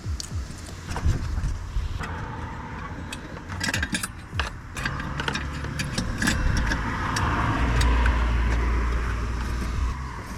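A Citroën Saxo on a road trip drives along an open road, its engine humming steadily with road and wind noise, some light rattles and clinks inside the cabin, and a rising rumble toward the end.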